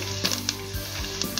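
Curry leaves and dried red chillies sizzle in hot oil with a steady crackling hiss, punctuated by brief spits and a couple of low clunks from the pan.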